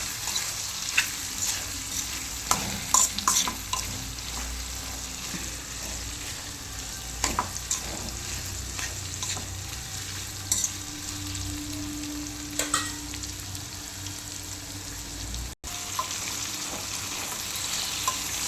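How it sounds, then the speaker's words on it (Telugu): Vegetables frying in oil with coriander powder and spices for Telangana-style pappucharu, a continuous crackling sizzle with occasional stirring clinks, close and steady, with no talking. "ఇవన్నీ వేసి మన ఆయిల్లో ఈ వెజిటేబుల్స్ అన్నీ మంచిగా వేయించుకోవాలి."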